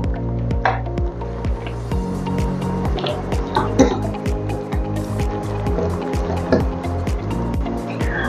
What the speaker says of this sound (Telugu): దీన్ని ఉండలు లేకుండా బాగా తిక్కుగా కలుపుకోవాలండి.